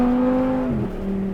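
A rebuilt, previously wrecked Audi R8 cruises on a highway with a steady, fairly quiet engine hum whose pitch dips partway through. The sound is close and continuous, and no one speaks.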